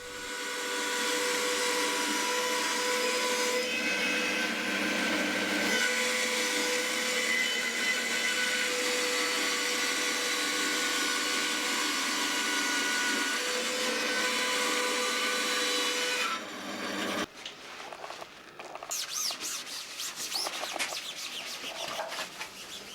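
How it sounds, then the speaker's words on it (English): A bandsaw ripping thick wood pieces down to size, a loud sustained whirring cut that runs steadily for about sixteen seconds, then stops and leaves quieter workshop clatter. "A couple of the pieces were still way too thick, so I ripped them down on the bandsaw"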